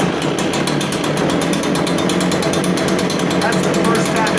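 A new Echo PB580T backpack leaf blower's two-stroke engine runs steadily on its first start after the choke is set, a loud, constant close-up drone with a rapid pulsing rattle and a voice speaking over it.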